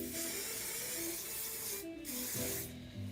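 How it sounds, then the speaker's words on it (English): Hairspray is sprayed onto hair in a steady, close hiss, with two short breaks between bursts. "Spray the shit out of it."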